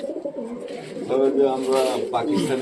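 High flyer and Giribaz pigeons coo in soft, repeated throaty calls close by, with a voice speaking at moments over them.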